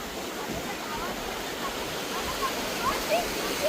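A strongly flowing village river at Shevre rushes with a steady, dense roar of water close by, with faint voices mixed into the constant noise.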